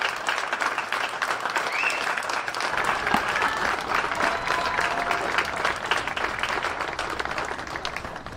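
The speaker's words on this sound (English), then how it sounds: "You hear the round of applause for Bubba Doris" A crowd at an American Legion baseball championship game gives a round of applause, loud sustained clapping from many people in the stands, continuous and dense with a few scattered cheers.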